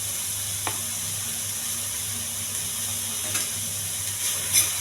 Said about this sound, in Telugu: ఇదంతా బాగా వేగించాలి.